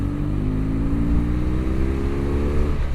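A motorcycle engine runs loud and close with a steady, throbbing rumble, its pitch easing slightly downward over a few seconds with no voices.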